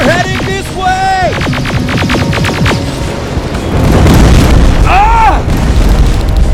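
Rocket explosions in the Terminator Resistance video game, a loud rumbling blast swelling near the end under shouted voices and game dialogue with tonal calls earlier.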